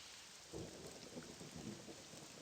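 Rain patters steadily in the fantasy video game Morrowind while soft, low thunder rolls underneath, all faint and distant with no talking.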